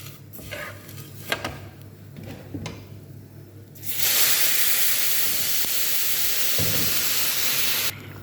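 Oil heating in a pan for Arabian vermicelli: a few quiet seconds with small clinks, then a loud, steady sizzling hiss bursts in and holds for about four seconds before cutting off sharply.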